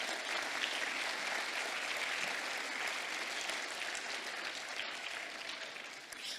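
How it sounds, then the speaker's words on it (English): An audience at a reception applauds a pianist named Natalie, a dense, steady wash of many clapping hands that holds evenly for several seconds and eases slightly near the end, with no voices over it. "So I'd like to give a round of applause for her."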